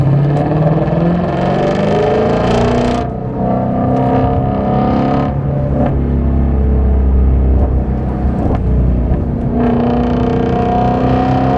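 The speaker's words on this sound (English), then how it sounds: "nothing I have driven makes downshift sounds like this does." A 2017 Shelby GT350 V8 heard close from inside the car roars under load, with repeated sharp downshift blips and rev changes breaking a loud, continuous engine drone.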